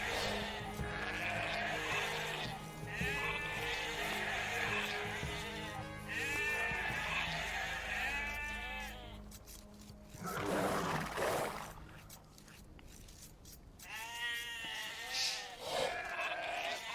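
Sheep bleat repeatedly in a real-time strategy game, with several separate calls spread over the clip among game sound effects and background ambience, and no one talking.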